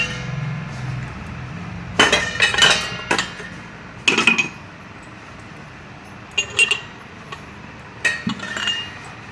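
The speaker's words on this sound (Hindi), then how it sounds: "ये सब बर्तन आप कपड़े से पोंछ के सूखा कर लेते हो।" Metal dishes clink and clatter as they are wiped dry with a cotton cloth during a kitchen deep cleaning, in several short bursts of close rattling separated by quieter pauses, with no talking.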